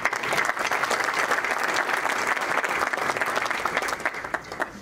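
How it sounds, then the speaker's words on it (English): An audience at a book launch claps steadily, a dense, sustained round of applause that holds strong for several seconds before easing slightly at the end. "please join me in giving them a well-deserved round of applause."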